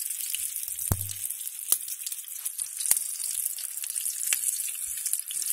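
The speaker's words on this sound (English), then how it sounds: "you can see it's still frying real well" Oysters and green tomatoes sizzle and crackle steadily in hot oil, a continuous bright hiss with occasional pops and a brief low clunk early on.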